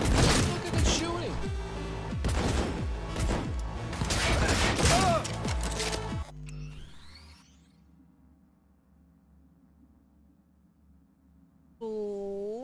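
Gunfire in the video game Cyberpunk 2077 comes as a dense burst of rapid shots and mechanical clatter, then cuts to quiet with a low hum and a closing tonal sweep.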